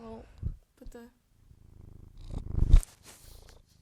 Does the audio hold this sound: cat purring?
yes